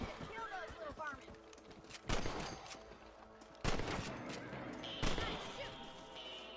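Three loud gunshots ring out at roughly even intervals while hunting rabbits in the video game Red Dead Redemption, each a sharp crack with a trailing echo over a steady game soundscape; bird-like chirps appear at the start and a voice speaks between shots.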